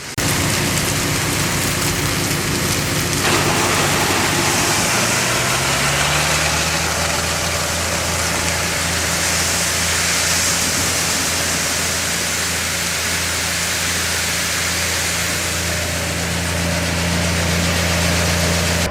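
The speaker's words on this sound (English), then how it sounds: "I have to do the first one on low idle, because otherwise it fills this bin up too quickly and I block the auger." A farm machine's engine idles low while an auger fills a grain bin, producing a loud, steady droning rumble with a noisy wash over it, its pitch shifting around a quarter of the way through and then holding steady.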